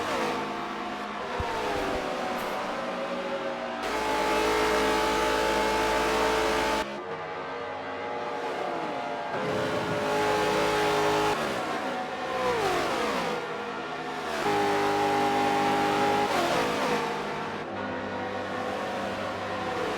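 Race cars in a NASCAR video game, engines whining and revving in repeated waves as cars shift and pass, loud and close with steady mechanical drone between, no talk.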